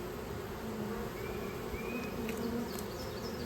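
Honey bees buzz steadily inside a hive holding a brand new queen and eggs, with the dense hum continuing unbroken throughout.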